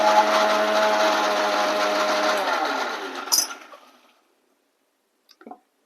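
A small kitchen mixer grinder whirs loudly and steadily for about four seconds while making chutney, then winds down to silence, followed by a couple of faint clinks.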